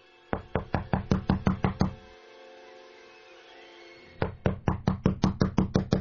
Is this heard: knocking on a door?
yes